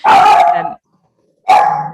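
A dog gives two loud, close barks separated by a short silence, with no voices.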